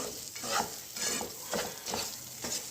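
Poha laddu mixture with dry fruits being stirred in a pan, rhythmic scraping strokes roughly every half second over a soft sizzle, close and fairly quiet.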